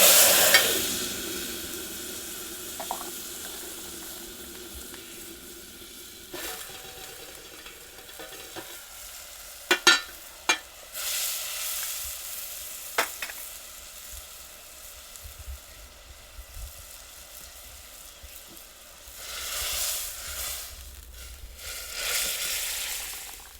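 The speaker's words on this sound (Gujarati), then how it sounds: "હવે આપણે નાખી દઈએ દાળ." Dal tossed into hot oil with dried red chillies in a pan for a Gujarati pulao-and-dal meal, sizzling steadily with stirring and scraping clatters, a few sharp spoon knocks and a louder burst of frying near the end, no talking.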